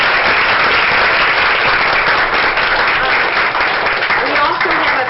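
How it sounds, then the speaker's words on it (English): A crowd at a city council meeting applauds in a steady, dense wash of clapping that runs loud and unbroken from start to finish. "can we give them all a big round of applause?"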